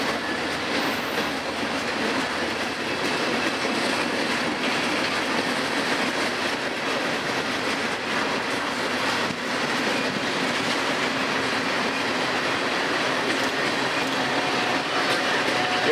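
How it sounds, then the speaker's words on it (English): Two ballast trains rumble past continuously with rhythmic clickety-clack of wheels over rail joints, a loud, steady roar that persists throughout. "Two ballast trains."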